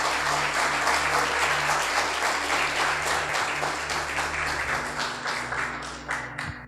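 Church congregation applauding after a sermon reading, sustained dense clapping filling the room, loud at first and gradually thinning toward the end, with a low hum underneath.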